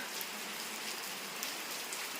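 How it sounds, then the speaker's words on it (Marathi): Steady rain pours down outside, a dense, even hiss of drops with no voices, holding constant throughout. "बाहेर मस्त छान पाऊस पडतोय"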